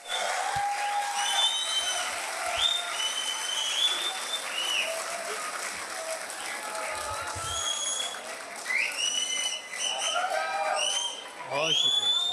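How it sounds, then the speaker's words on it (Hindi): Sustained applause from a mushaira audience in Lahore welcoming a poet to the stage, steady dense clapping filling the hall for several seconds, with a host's voice speaking over it. "भरपूर तालियों में इस्तकबाल कीजिए।"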